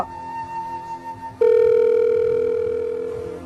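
A phone line's ringing tone plays through a handset, a brief higher tone followed by a long, lower steady tone, with no voice picking up.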